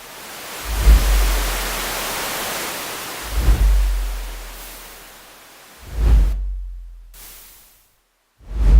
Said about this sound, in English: I've got white noise, as I mentioned.